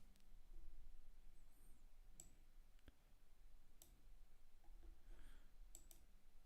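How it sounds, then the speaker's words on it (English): Quiet computer mouse clicks come in scattered single taps during a hockey livestream, some louder, others faint, spread through low room noise with no talk. "you guys can hear me clicking around because I'm trying to keep up"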